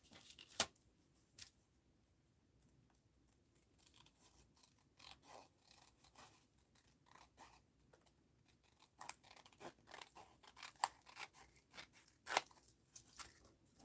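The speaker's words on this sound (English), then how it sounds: "Of course I'll cut it as soon as I find my scissors." Quiet scissor snipping and crinkling of paper, irregular clicks and crunches scattered across the clip, growing busier toward the end, with no talking.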